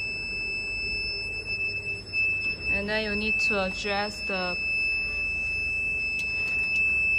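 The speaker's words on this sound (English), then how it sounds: "now you hear the alarm" A continuous high-pitched electronic alarm tone sounds steadily from an automatic cellophane packing machine while someone speaks over it.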